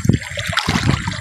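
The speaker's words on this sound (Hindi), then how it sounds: "ये जो पानी जो है वो बहता हुआ आ रहा है" Cold water flows and gurgles in a stream in the Kashmir valley, a close, continuous splashing wash with a few brief louder sloshes and no talking.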